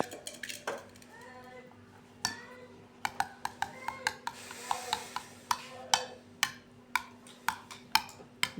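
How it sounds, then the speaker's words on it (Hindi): A spoon stirring pumpkin raita in a bowl, making a series of close, sharp clinks and taps against the bowl that speed up into a steady rhythm, with no one speaking. "और इसको अच्छी तरह मिक्स करेंगे"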